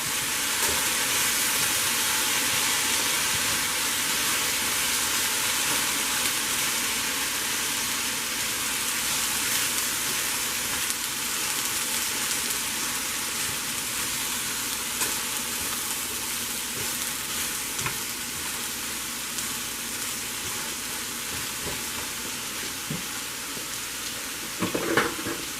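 Roast beef with fresh garlic steams in a pot, giving a continuous loud hiss and sizzle that holds steady throughout, with a brief clink near the end and no talking.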